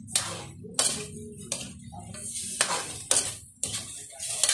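A spoon scraping and stirring food in a metal pot, in repeated rhythmic strokes with clinks against the sides and a soft sizzle underneath.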